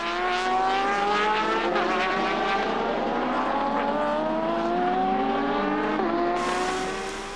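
Toyota and Porsche endurance race cars roar past in an FIA WEC race, with a loud, sustained engine whine that rises through gear changes, close and continuous, and no talk.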